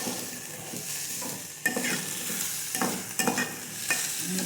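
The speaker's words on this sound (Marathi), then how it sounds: "डाळ आणि तांदूळ पाच मिनटं भाजून घ्यायचं" Dal and rice are dry-roasted in a pan, with a steady sizzle broken by repeated scraping stirs of a spoon against the metal, close and fairly loud with no voices.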